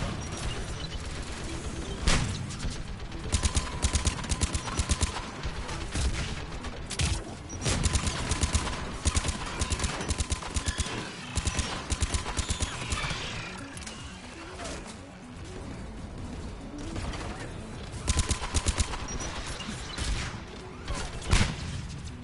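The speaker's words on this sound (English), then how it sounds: "Mounted turret." Mounted turret in Mass Effect 3 firing in rapid sustained bursts over about twenty seconds, loud and dense, with short pauses between volleys amid battle noise.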